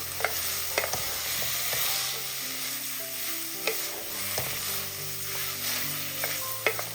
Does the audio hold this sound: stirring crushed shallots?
yes